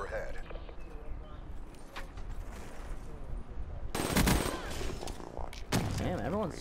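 Grenade explosions and bursts of gunfire in a Black Ops 3 beta multiplayer match, with dense crackling shots throughout and a loud blast near the middle, another louder burst toward the end.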